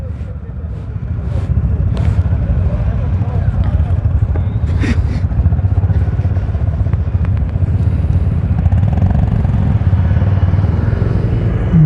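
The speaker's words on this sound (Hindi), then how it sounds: "सो निकल रहे हैं भाई सब लोग अपनी अपनी बाइक्स पे।" Honda motorcycle engines rumble continuously nearby as a group ride pulls away near the India–Pakistan border at Suchetgarh, with a few clanks and people talking faintly underneath.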